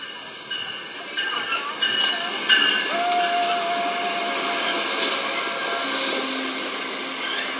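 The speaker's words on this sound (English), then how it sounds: "Finally, our train." An Amtrak Silver Star train rumbles into Orlando station with screeching, squealing wheels and a brief whistle-like tone, growing steadily louder as it nears.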